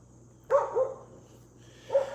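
A dog gives two short barks about a second and a half apart, moderately close and clear over a quiet room background, with no talk during the barks.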